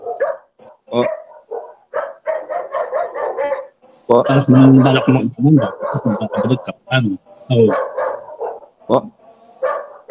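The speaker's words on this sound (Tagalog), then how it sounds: "Maingay yung aso." A dog barks repeatedly in short bursts nearby while people talk over it, the barking loud and mixed into the conversation.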